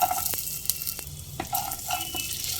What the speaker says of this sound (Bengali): কড়াইতে এক টেবিল চামচ ঘি দেওয়ার পর আমি কাজু বাদাম আমন্ড বাদামগুলো দিয়ে দেব